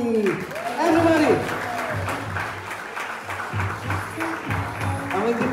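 A party audience applauds steadily for several seconds, with voices talking over the clapping.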